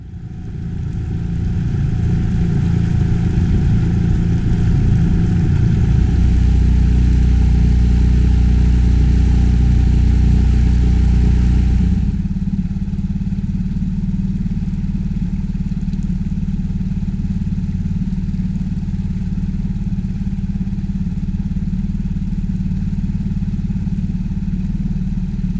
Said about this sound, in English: I got back in the boat and headed onwards towards Ruba Bar